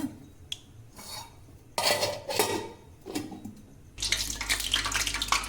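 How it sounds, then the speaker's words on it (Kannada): A little water sprinkled into hot oil heated for frying chicken kebab sets off bursts of crackling that become a dense, continuous spitting sizzle close by. "ಒಂದು ಸ್ವಲ್ಪ ನೀರು ತಿನ್ನಿಸ್ಬಿಟ್ಟು ಚಟಪಟ ಚಟಪಟ ಅಂತ ಸೌಂಡ್ ಮಾಡುತ್ತೆ"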